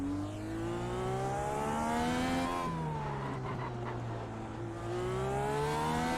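A race car engine pulls hard in first gear down the long pit exit at Long Beach in iRacing. Its tone climbs steadily, drops at a shift, then rises again, loud and continuous with no talking.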